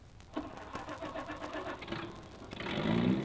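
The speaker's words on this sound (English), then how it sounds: "That is, if I can get the car started." An old 1930s car engine cranks and catches as a radio drama sound effect: a few mechanical clicks and turnover stutters, then a steadier mid-pitched engine rumble that swells louder near the end, close and without talk.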